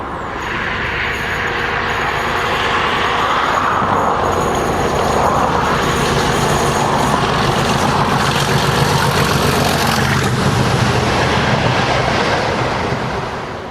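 Class 37 diesel locomotive 37603 hauls class 20 locomotives through Culham near Oxford, a loud, steady rumble and roar of engines and wheels rolling past at close range.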